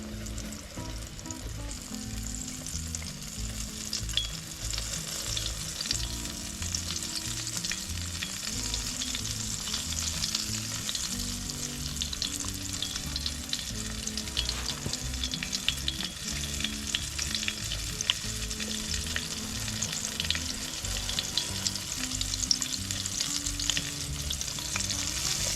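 Chicken of the woods (sulphur shelf) mushroom pieces fry in overly hot oil, a steady, dense sizzle and crackle running unbroken throughout, close and moderately loud, with occasional stirring and no talk.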